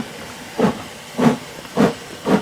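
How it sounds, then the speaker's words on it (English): A Thomas the Tank Engine toy train lets out four short, evenly spaced puffs of steam hiss, each a brief breathy burst close up. "Thomas wheeshed some steam,"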